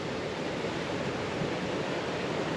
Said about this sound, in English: Nice stream.